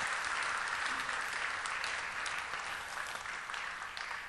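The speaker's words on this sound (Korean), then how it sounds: "박수로 환영하겠습니다." Church congregation applauding to welcome visiting guests during a Bible study gathering, a broad sustained clapping that fills the room and fades slightly toward the end.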